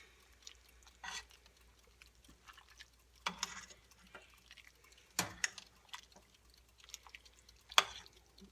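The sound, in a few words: stirring pinto beans with barbecue sauce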